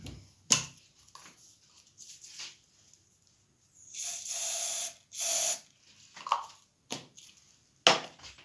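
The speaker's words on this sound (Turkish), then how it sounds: "daha belirgin olması için saç spreye sıkacağız" Hair spray from an aerosol can sprayed during a cloud-formation demonstration, heard as two short, loud hissing bursts close by, separated by a brief pause, with faint knocks and handling noises around them and no talking.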